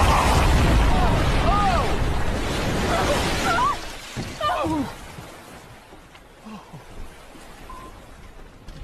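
A loud, roaring blast-like rumble with crackling debris fills the first few seconds, then fades to quieter rustling with scattered distant pops.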